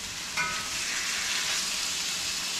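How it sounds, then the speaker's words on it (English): Pork for fajitas sautéing in a hot pan gives a steady, close, broadband sizzle with no pauses, and a brief brighter crackle near the start. No one speaks. "That's the sound of the sautéing meat."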